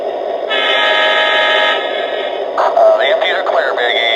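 Lionel Alaska Railroad freight set sound effects from a model train: a steady loud rumble with a sustained horn-like tone, then warbling electronic tones like a bell or chime, continuous and close.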